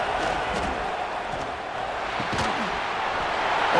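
Stadium crowd in College Football 26 at an Arkansas at Ole Miss game, a broad sustained roar of cheering fans with scattered sharp bursts, loud and steady, rising slightly toward the end.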